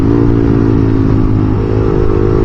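A motorcycle fitted with a Yoshimura R11 dual exhaust pipe runs loud and close, a steady throaty engine roar with slight rises in pitch as it revs.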